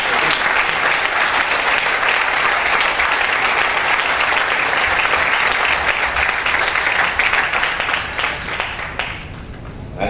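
A large graduation audience at a university convocation for the class of 2014 applauds steadily, dense and loud throughout, easing slightly in the last second.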